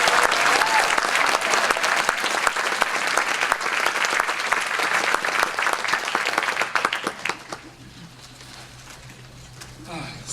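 Audience at a film festival opening screening applauding volunteers, loud sustained clapping from a full house that fades out after about seven seconds, leaving quiet room tone.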